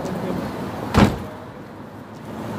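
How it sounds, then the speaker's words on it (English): A single door opens with a short, sharp whoosh and thud about a second in, standing out briefly above a quiet background hum. "Doors open."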